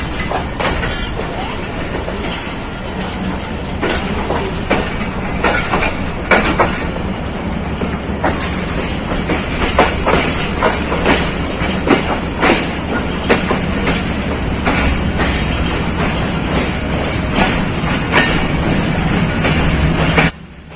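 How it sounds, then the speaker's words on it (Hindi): The Baba Farid Express passenger train rolls out on Pakistan Railways, heard from on board as a loud, continuous rumble with a repeated clickety-clack of wheels over rail joints lasting the whole stretch. "प्लेटफार्म नंबर 4 से रवाना हो चुकी है ट्रेन।"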